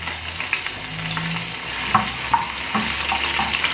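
Chopped garlic sizzling in oil in a frying pan, a steady close hiss with faint crackles and a few utensil clinks while it is stirred.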